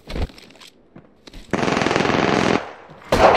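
Automatic gunfire in the video game Apex Legends, a brief shot, then a sustained rapid burst followed by another loud burst at the end, close and punchy.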